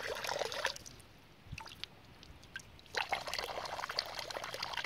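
Drinking water pours from a public fountain in an Austrian national park, a steady splashing stream heard close up, briefly thinning to a trickle midway before running full again.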